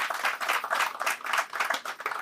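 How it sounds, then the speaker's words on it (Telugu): Brief, faint clapping from an audience honouring Vijayalakshmi and Narasimha, with the claps landing in a quick, fairly even rhythm for a couple of seconds. "వారి గట్టిగా చప్పట్లతో అభినందనలు తెలియచేయండి"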